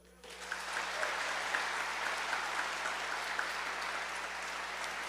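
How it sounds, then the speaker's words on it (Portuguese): Congregation applause during a sermon, a steady wash of clapping from a moderately distant crowd that rises quickly and holds throughout, with a low constant hum beneath. "Você pode aplaudir?"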